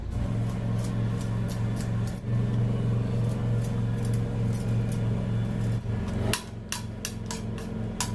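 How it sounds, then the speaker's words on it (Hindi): Ginger, green chili and garlic pounded into a paste by hand in a home kitchen, a steady run of close, repetitive thudding strikes with a busier stretch of sharp knocks near the end, no talking. "सबसे पहले इनको कूट लेते हैं, और जब ये कूट जाएगी ना अच्छी तरह, उसके बाद फिर टमाटर और प्याज को कूट लेंगे"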